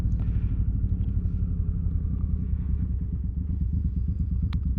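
A Suzuki Boulevard M109R motorcycle idles up close with a loud, deep, lumpy rumble. The engine runs steadily throughout, with rapid regular pulses and light mechanical clatter.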